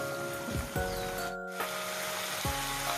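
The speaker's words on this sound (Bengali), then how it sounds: "যেহেতু পেস্ট করা পেঁয়াজ, সেই জন্য আমি এটা মিডিয়াম ফ্লেমেই ভাজবো।" Onion paste masala sizzles steadily in a pan over a medium flame for an egg curry, a close, even frying hiss with a couple of brief stirring scrapes.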